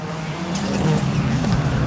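Rallycross race cars at a Sigiriya track roar past close behind spectators, a loud continuous engine drone with rising and falling pitch as cars sweep by within ten meters.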